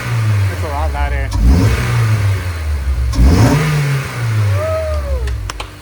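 A CompTech-intake Honda S2000 engine revs up twice in quick succession, each rev sweeping up in pitch and dropping back to idle, loud and close, while people talk over it.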